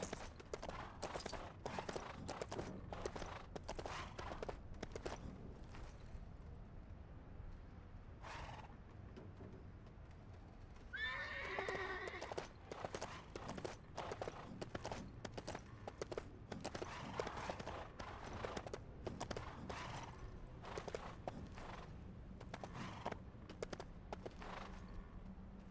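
Hooves clip-clop steadily throughout, and partway through a horse gives a loud, shrill whinny, in the video game Lego The Hobbit.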